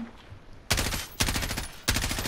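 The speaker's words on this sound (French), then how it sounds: "Ça tire, ça tire." Gunfire in the Call of Duty Warzone video game comes in three sharp, loud bursts of rapid automatic shots, each separated by a brief pause, over a quiet background.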